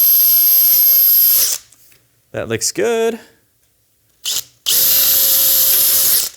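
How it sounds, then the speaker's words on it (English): A power drill fitted with a 1/8 inch bit bores through metal at a snap punch mark, with two loud sustained whining runs separated by a pause and brief talking in between. "1/8 of an inch drill bit in the drill. Gonna line it right up on our snap punch here and go through."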